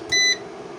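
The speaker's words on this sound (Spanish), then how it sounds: "ese fallo, el pitido, se vaya." A VEVOR 3.5 kW, 24-volt off-grid inverter gives a fault alarm: one short, clear electronic beep about a fifth of a second long, close and loud over a low steady hum.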